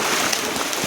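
Heavy rain falls on a waterlogged street in Maliwas, Gujarat, as a dense, even hiss with scattered drop patter, heard for a short stretch with no voices.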